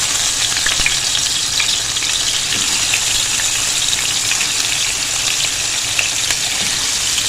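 Chicken pieces frying in about five tablespoons of hot oil, a loud, steady, dense sizzle with some stirring, continuous throughout with no voices.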